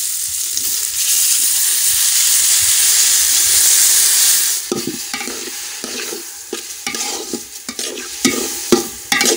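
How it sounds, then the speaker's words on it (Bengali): Soaked rice frying in ghee with cumin and bay leaf gives a strong steady sizzling hiss, then turns into choppy bursts of stirring and scraping in the pan. "চালটা আমি ঘিয়ের সঙ্গে ভালো করে একটু ফ্রাই করে নেব"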